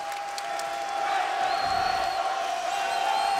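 Basketball arena crowd during a late-game stretch of an Ohio State–Arizona game, a steady roar of cheering and whoops that swells slightly louder after the first second and holds, with a sustained tonal whistle-like line running through it.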